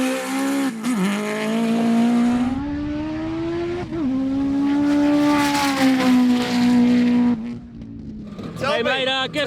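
A Mitsubishi Evo 6, a four-cylinder all-wheel-drive car, makes a loud drag-racing pass on a runway: a sustained high engine drone that climbs through gear changes with brief shifts, up close and dominating.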